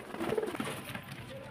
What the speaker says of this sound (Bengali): এই যে ফ্রেন্ডস, একজোড়া টেডি কবুতর দেখুন, খুব সুন্দর কোয়ালিটির টেডি।